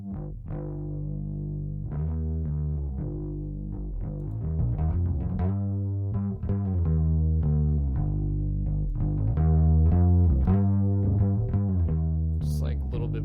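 Distorted bass guitar with a chorus effect plays a steady, driving line of sustained harmonic notes, loud and up front throughout, with a brief high click near the end.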